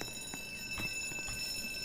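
A museum alarm in the Roblox Jailbreak game rings as a steady high electronic tone with sustained pitched lines, faint and continuous, with soft clopping thuds beneath.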